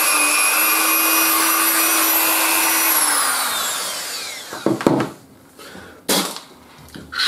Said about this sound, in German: Das müssen wir im wahrsten Sinne des Wortes ein wenig aufbohren. Dann hole ich mal einen Dremel dran.